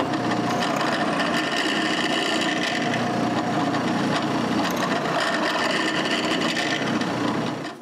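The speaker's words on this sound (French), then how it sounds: "je peux marquer les trous pour des vis d'un boîte et percer des trous pilotes" Drill boring pilot holes into small round wooden box lids, a steady loud whirring grind into the wood lasting several seconds, close up with no talking.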